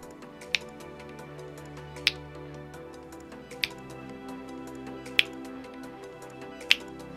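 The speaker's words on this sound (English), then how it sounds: "I love the little finger snap." Five crisp finger snaps, evenly spaced and sharp, punctuate the steady instrumental of an action theme song from the game Angels With Scaly Wings.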